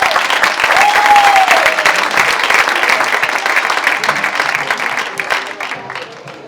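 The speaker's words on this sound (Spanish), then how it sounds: "¡Un aplauso a Rachel!" Audience applause at a children's presentation, dense sustained clapping from a crowd that holds loud and steady, then gradually thins toward the end.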